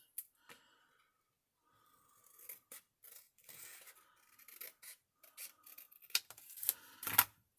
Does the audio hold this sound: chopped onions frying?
no